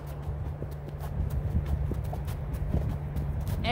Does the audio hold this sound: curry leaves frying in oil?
no